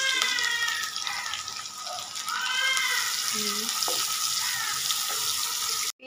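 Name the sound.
onions and chilies frying in hot oil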